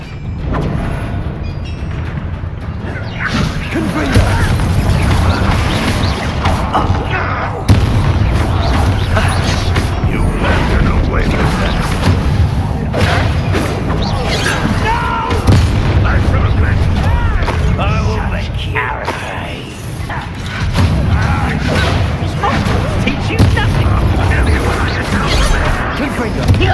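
Explosive Confringo spell blasts in Hogwarts Legacy, loud booming bursts and crashes recurring throughout a dense battle mix, with spoken voices over the combat.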